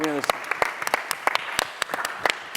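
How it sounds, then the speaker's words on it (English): A small audience at a panel event gives a short round of sparse clapping, distinct individual claps popping irregularly and close by, with a voice briefly heard at the start. "Round of applause for Saul."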